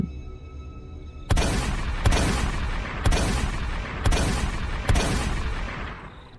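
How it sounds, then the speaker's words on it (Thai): Five sharp gunshots ring out at roughly one-second intervals, each loud blast trailing into a long echoing decay. "เสียงปืนห้าถึงหกนัด ดังกึกก้อง จนแก้วหูแทบแตก"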